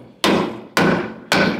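Three loud, evenly spaced hammer blows drive a support into place beneath a wooden staircase, each strike sharp and close with a short ringing decay.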